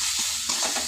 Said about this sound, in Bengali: এটাকে মশলাগুলো দিয়ে ভালো করে নেড়ে চেড়ে নেবে